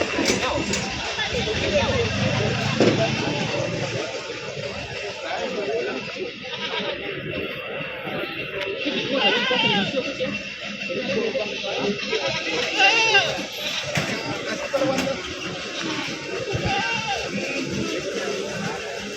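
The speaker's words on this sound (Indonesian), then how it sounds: "Jadi untuk kambing di sebelah sini berbagai macam kambing." Goats bleating among a crowded livestock market in Payakumbuh, with steady chatter and talk from people throughout and occasional bleats rising over the hubbub.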